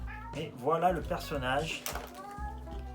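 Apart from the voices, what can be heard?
cat meowing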